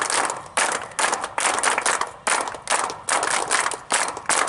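A crowd at a meeting claps steadily in loud, dense applause, the sound swelling and dipping in repeated waves with no voices over it.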